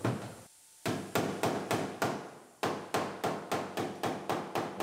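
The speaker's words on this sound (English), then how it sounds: "Hammer the buckles out." Sharp metallic hammer blows strike the quarter panel of a damaged Lexus IS250, hammering out buckles, in steady rhythm, about a dozen hits close up, with a short pause early on.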